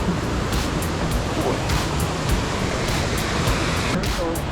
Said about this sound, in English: Crossing the river